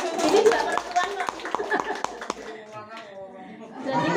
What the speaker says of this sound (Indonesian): Tepuk tangan buat perempuan.